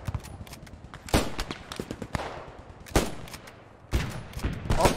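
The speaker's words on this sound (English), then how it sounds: "Machine guns on the fucking roof" Machine gun fire from a rooftop in the WWII shooter Post Scriptum, clusters of rapid shots in bursts with louder cracks roughly every second, amid scattered battlefield gunfire.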